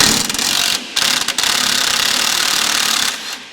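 Hand tools work on a crusty, long-untouched sway bar being removed from a 1986 Chevrolet Monte Carlo SS, giving steady close ratcheting clicks broken by short pauses.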